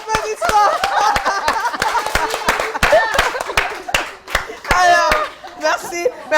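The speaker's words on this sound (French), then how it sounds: "Les applaudissements." Audience members clap during a lively show, sharp irregular handclaps mixed with cheering voices and crowd noise, fairly loud and close.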